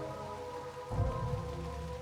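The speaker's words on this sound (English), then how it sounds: "It's a gentle rain," Steady rain with a low rumble of thunder in the video game Master Detective Archives: Rain Code, a soft continuous patter that swells with a brief deeper roll midway through.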